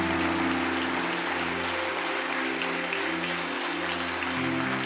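A church congregation applauds steadily during a sermon, a dense continuous wash of clapping with a sustained musical tone underneath.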